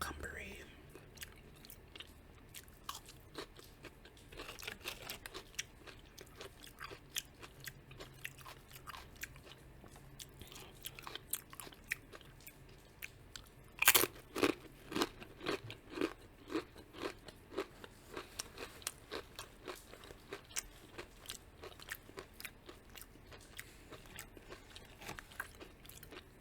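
Close-up crunchy bites and chewing of cucumber from a hummus and grape leaf snack box repeat steadily, with a burst of louder crunches midway.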